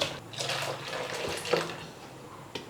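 Water is poured into a spiced pani puri water mixture in a home kitchen, a soft continuous splashing and trickling at moderate distance with a couple of small clinks.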